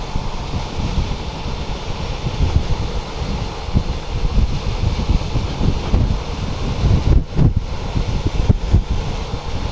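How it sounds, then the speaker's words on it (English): Wind roars steadily and loudly against the microphone of a rider on a motorbike traveling the highway, a dense rushing buffet with constant gusty fluctuation and no talk. "the wind's coming from the left, so you kind of notice my bike's kind of leaning a little bit that way"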